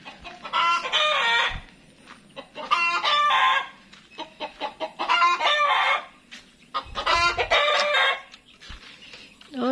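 Backyard hens cackle loudly and repeatedly after laying an egg, in four long bursts of rapid clucking broken by short quieter gaps.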